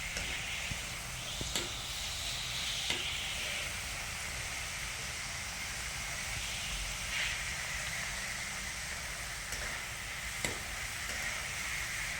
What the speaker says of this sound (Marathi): आता परत त्याला डबल फ्राय करून घेऊया। तेल गरम झालेले